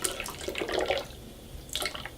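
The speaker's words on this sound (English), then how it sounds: "I'm going to go ahead and put my lye water in." Lye water for cold-process soap poured through a strainer into the soap oils, a close, continuous splashing trickle lasting about a second before a brief pause and a final short pour.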